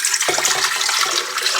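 About two and three-quarter cups of water splash steadily from a measuring cup into a mixing bowl for sandwich bread dough: a short, continuous, close-up pour with no talking.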